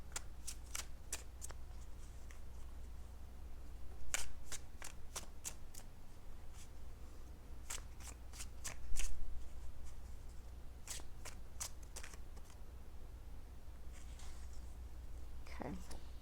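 A deck of message cards for a relationship pick-a-card reading is shuffled up close, giving repeated crisp riffling flicks in short bursts with pauses between, set against a quiet room hum.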